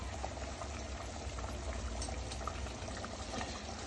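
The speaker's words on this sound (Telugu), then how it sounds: "ఆల్రెడీ గ్రేవీ ఫామ్ అయ్యింది, మరిగింది" A pot of fish curry masala gravy boils steadily, giving a soft, continuous bubbling and rumbling texture at a fairly low level, with no one talking.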